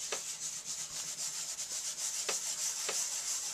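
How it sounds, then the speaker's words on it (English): Oil pastel being rubbed and blended with baby oil, a soft continuous scrubbing at close range with a few faint taps, quiet and steady with no voices. "And you just keep rubbing it and blending it."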